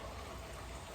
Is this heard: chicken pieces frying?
no